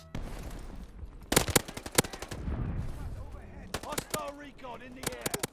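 Gunfire in the video game Call of Duty Vanguard during a multiplayer beta match, with sharp automatic bursts and single shots in quick clusters, loud and close, mixed with game sounds and talk.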